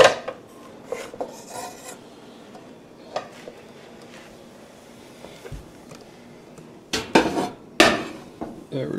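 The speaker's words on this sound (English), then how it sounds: "So pot and pans." Pots and pans clank and rattle in a kitchen, with scattered metallic knocks and scrapes, a few louder bangs near the end, and quiet pauses between.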